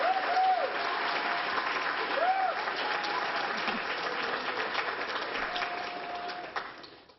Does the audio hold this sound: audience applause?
yes